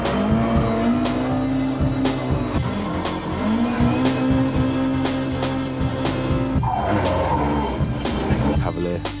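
A drift car driven hard at a drifting event in Mexico, its engine roaring and revving close by while tires squeal and skid loudly in long stretches.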